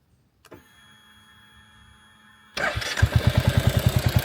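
A Royal Enfield Classic 350 motorcycle is started up close: a brief click and a steady electrical whine from the starter, then the single-cylinder engine catches and settles into a loud, rapid, regular thumping.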